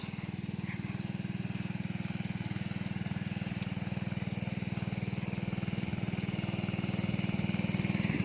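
A water pump's engine runs at a steady, rapid throbbing chug while pumping water from a pond. It is close and loud, with an even pulse that holds throughout and swells slightly near the end.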